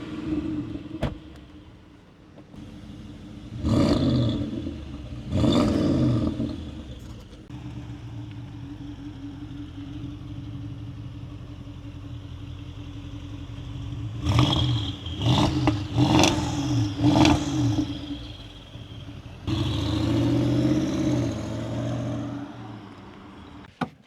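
A car engine during a test drive holds a steady rumbling drone inside the cabin, rising into several revving surges as it accelerates, continuous and fairly loud throughout.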